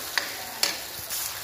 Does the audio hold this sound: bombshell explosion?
no